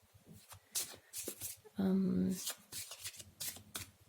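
Cards riffle and shuffle in a quick burst, surrounded by soft handling clicks and taps, close up, with talk underneath.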